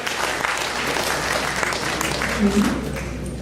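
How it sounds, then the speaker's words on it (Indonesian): Audience at an entrepreneurship workshop for university students applauds a speaker coming forward: dense, steady clapping from a room of people, fairly close, with a brief murmur of voices near the end. "tepuk tangan meriah buat Mas Asep"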